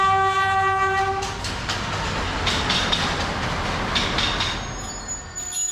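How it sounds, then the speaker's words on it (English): Sleeper train carriages clatter and bang during shunting, with a long horn blast over the start, then repeated metallic clanks and rattles of coupled cars, loud and close without talk. "the shunt procedure to prepare this train for departure begins, with my rake of carriages clattering and banging away"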